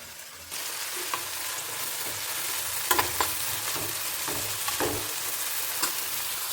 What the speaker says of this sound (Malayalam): അതേ എണ്ണയിലേക്ക് തന്നെ നമ്മുടെ ഉള്ളിയും മുളകും എല്ലാം കൂടി ഒന്ന് പൊരിക്കാനായിട്ട് വെച്ചു